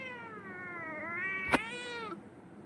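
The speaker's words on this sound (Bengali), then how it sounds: "তুমি আমার ক্যাট বলো আমার নাম চিঙ্কি বলো" A single drawn-out cat meow, close and clear, rising then falling over about a second and a half, with a brief knock partway through and quiet indoor background.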